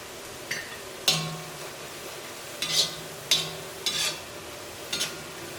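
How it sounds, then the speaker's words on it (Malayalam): Sliced onions and turmeric powder frying in oil for a royal chicken curry, with a soft steady sizzle broken by several sharp scraping stirs of a spatula against the pan, heard close with no talking. "ആ മഞ്ഞൾപ്പൊടിയും ഇതിനകത്ത് കിടന്നിട്ട് മൊരിയണം."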